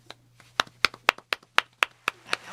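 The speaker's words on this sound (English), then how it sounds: "Need my claps." Small audience clapping in a slow, uneven rhythm of about ten distinct claps, close and alone with no talking.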